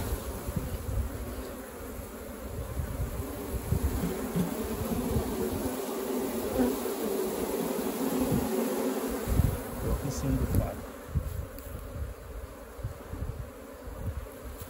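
A swarm of Apis honey bees being captured from a termite mound in the middle of a pasture, buzzing steadily and densely close by for the whole stretch, with a few louder surges.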